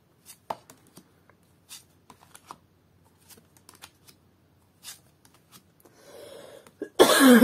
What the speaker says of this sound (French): Je suis vraiment désolée pour tousser autant.